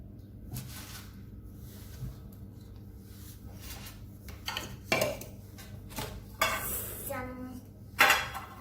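Bhelpuri ingredients being mixed in a bowl, giving off soft scraping and stirring with scattered metallic clinks of a spoon against the dish. The clinks grow sharper and louder toward the end, close by and with no talk.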